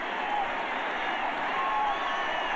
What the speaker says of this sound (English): the crowd beginning to yell